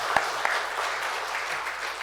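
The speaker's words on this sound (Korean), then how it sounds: "우리 박수하겠습니다" Congregation applause in a church worship service after the choir's hymn, a dense steady patter of clapping filling the short stretch, moderately loud and continuous with no voices over it.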